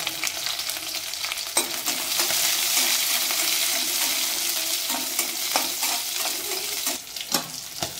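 Shallots and green chillies fry in a pan for a fish curry with a loud, bright sizzle and crackle, broken by sharp metallic clinks and scrapes of a spoon stirring against the pan, with no voices.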